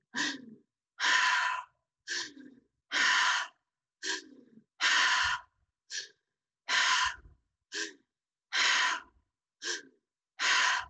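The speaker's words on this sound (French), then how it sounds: "À la fin de la troisième, continue la technique mais avec la bouche ouverte. Respire par la bouche." Slow guided meditation breathing through an open mouth, about a dozen separate breaths alternating in and out, each a breathy rush with quiet gaps between, close and alone with no talking.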